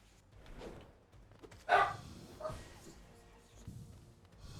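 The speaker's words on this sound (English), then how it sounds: "I hear him barking, but it seemed he stopped barking pretty fast" A dog barks a couple of times at a distance during a game of Hollow Knight, with short, muffled barks over quiet background sound.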